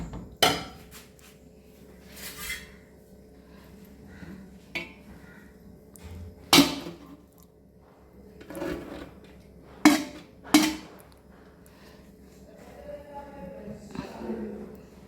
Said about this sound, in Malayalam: ഇനി ഞാൻ ഈ ചോറ് ഈ ചരുവത്തിനകത്തോട്ട് തന്നെ മിക്സ് ചെയ്യുക